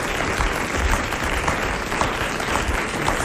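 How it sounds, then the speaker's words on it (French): A French television studio audience applauds steadily throughout, a dense, even wash of many clapping hands at close range with no voices. "Ça, ce sont des applaudissements."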